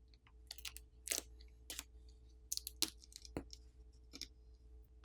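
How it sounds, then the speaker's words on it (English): Plastic camera bezel being pried off a Poco F4 GT phone during teardown, with a series of sharp, sparse clicks and snaps spread across a quiet background, each brief and close. "Now the camera bezel needs to be pried off and removed."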